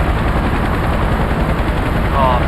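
Helicopter in the Emergency 4 video game, a continuous dense rotor chop and whir filling the scene at steady loudness, with no pauses throughout.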